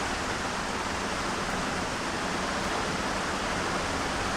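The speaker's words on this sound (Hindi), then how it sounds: "क्योंकि पंखा इतना तेज़ चल रहा है" An electric fan runs loudly and steadily indoors, a constant broadband whoosh that fills the space without pauses or changes.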